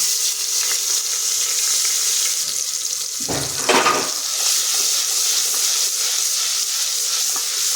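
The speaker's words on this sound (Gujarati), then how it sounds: "આપણે આદુ લસણ મરચાંની પેસ્ટ નાખીશું" Steady hissing sizzle of ginger, garlic and chili paste frying in hot oil in a pressure cooker, with a brief louder burst of crackling midway as it hits the pan; no voices.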